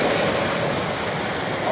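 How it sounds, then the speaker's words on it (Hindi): Floodwater rushes steadily after torrential rain in Jammu, a dense, continuous roar of flowing water with no breaks, loud and close throughout. "पानी का फ्लो"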